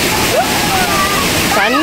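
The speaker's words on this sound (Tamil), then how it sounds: "இறங்கி வந்துட்டு இப்போ பாருங்க இங்கே தண்ணி ஓடி இருக்குது." Stream water running near a waterfall on a family trip, a continuous rushing slosh and splash heard close, with people talking over it.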